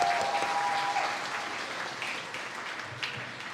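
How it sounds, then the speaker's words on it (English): A crowd at a live family festival gives another round of applause after a speech, sustained clapping that slowly tapers off. "Can we get another round of applause for Azan?"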